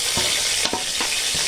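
Extra oil tipped into a pan of masala sets off a loud continuous sizzle, with a few soft stirring knocks in a short close burst and no voices.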